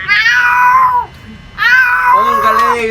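A child imitates a cat's meow with two drawn-out, whiny meows separated by a short pause, close and loud.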